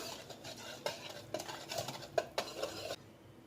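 Powdered sugar is stirred into an eggless cake batter in a bowl, a spoon scraping and knocking against the sides in a series of soft strokes, close and quiet, ending in near silence.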